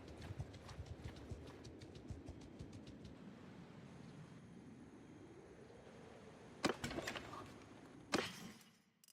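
Hooves of a Midlands Palfrey clip-clop in a medieval battle game, a quiet, rhythmic trotting patter that fades partway through, followed by two sharp louder impacts near the end.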